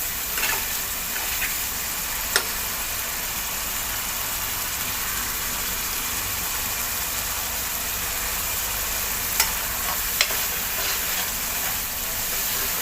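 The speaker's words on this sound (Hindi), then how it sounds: "मसाला देखें बहुत ही अच्छे से भून चुका है। और ऑयल भी एकदम अच्छे से इसके अंदर सेपरेट हो गया।" Punjabi rajma masala fries in separated oil with a steady, close hiss and sizzle, broken by a few brief clinks from stirring.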